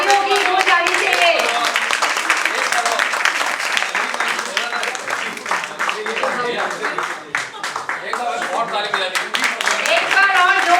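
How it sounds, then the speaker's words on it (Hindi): Loud, sustained audience applause fills a hall at a world record and book launch celebration, dense steady clapping running throughout with a voice speaking over it. "जोर से तालियों की गूंज आनी चाहिए."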